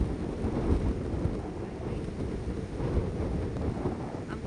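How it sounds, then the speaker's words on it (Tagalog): Strong typhoon wind roaring steadily and close into the microphone during a super typhoon, a dense rumbling buffet with no voices. "lakas ng hangin."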